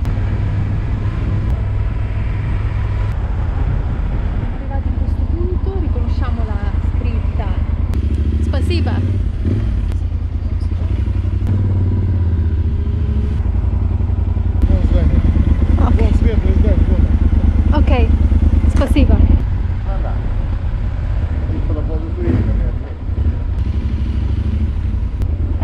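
A motorcycle rides through city traffic in Russia, its steady engine drone running low and constant under passing vehicle noise, with someone talking over it throughout.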